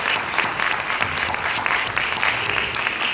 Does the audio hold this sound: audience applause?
yes